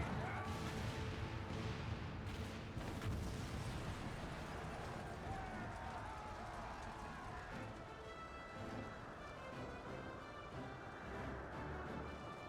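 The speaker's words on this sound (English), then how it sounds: "All cannons resume firing!" Cannons fire in a battle in the video game Final Fantasy XIV, heavy booms and bursts crowding together in a dense, continuous roar of combat noise, with the loudest blasts early on and the clamour staying thick throughout.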